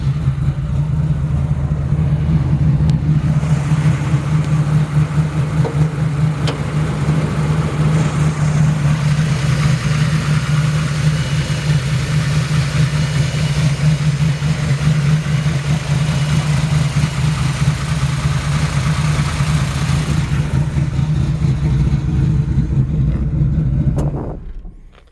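A 1972 Chevrolet Camaro engine idles loudly and steadily with a deep, rough rumble, running nearly unchanged for the whole stretch before fading at the end.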